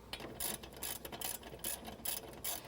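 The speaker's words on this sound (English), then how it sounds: "Next, we reinstall the caliper mounting bracket." A hand ratchet clicks in quick repeated bursts, close and fairly quiet, while the caliper mounting bracket is bolted back on during a disc brake change.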